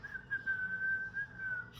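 A man whistles a single sustained, slightly wavering tone, faint and thin against a quiet background in the film Final Destination Bloodlines.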